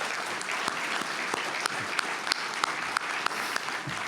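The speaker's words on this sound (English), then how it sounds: "how about another big round of applause for her?" A steady round of applause from the audience at a 2024 statesmanship awards ceremony honouring a senator, dense crowd clapping with a few sharper claps standing out throughout.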